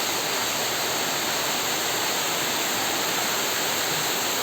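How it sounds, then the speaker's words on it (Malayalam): Heavy morning rain makes a dense, even, loud hiss throughout, with no voices. "ഇവിടെ നല്ല മഴയാണ്."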